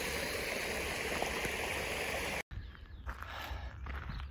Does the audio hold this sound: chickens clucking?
no